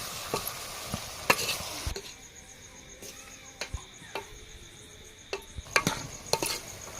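A spoon stirs chili and turmeric into a pot of brinjal mutton curry, giving sparse scraping clicks and soft knocks over a faint sizzle, with insect chirps in the background.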